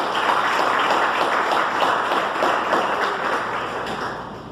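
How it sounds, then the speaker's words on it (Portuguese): A church congregation applauding with joy, a dense sustained wash of many hands clapping together in a room, steady and fairly loud before gradually easing off. "Aplauda o Senhor, irmãos, com alegria"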